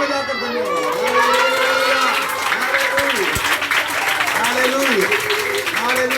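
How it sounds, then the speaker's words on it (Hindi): A church congregation claps along during a Hindi worship service, steady applause mixed with voices and singing, loud and close throughout. "ताली बजाकर धन्यवाद"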